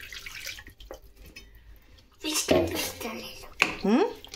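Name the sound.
stirring tamarind soup in a pot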